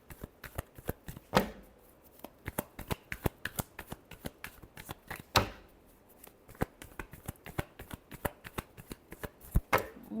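Tarot cards being shuffled by hand in a steady run of crisp, rapid riffles and flicks, with a few louder slaps standing out, close and clear with no talking.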